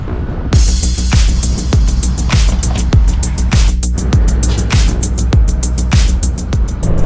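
A car driving down the road, a loud close rumbling drone with regular thumping beats roughly every half second, like passing over road joints, continuous with no talk.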